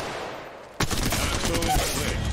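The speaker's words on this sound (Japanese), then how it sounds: "射撃開始。" Automatic gunfire in the mobile shooter game Apex Legends Mobile erupts suddenly after a quiet moment and continues as dense, rapid bursts, loud and close.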